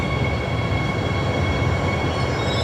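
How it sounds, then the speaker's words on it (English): Airport air train at Brisbane Airport running just below an elevated spot at night, a steady loud rumble of rail wheels with sustained high brake squeal throughout, no talking. "Wow, screechy brakes there on the air train just below us."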